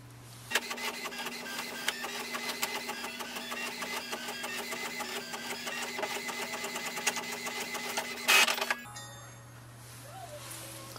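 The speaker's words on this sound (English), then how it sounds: "click on the print button so that we can see if the printer can print this page" An HP Envy Pro 6452 inkjet printer feeds and prints a page, giving a close, rhythmic mechanical whir with repeated clicks. It ends in a brief louder burst, then a quieter hum.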